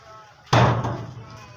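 One loud knock or bang on a house door, a single sharp hit close by that rings out briefly against a quiet background.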